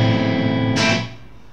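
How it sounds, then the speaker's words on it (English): A 2012 Squier Bullet Strat electric guitar plays a distorted crunch chord that rings out loud and close, then a bright scrape, and the sound quickly fades. "Let's have some crunch tones."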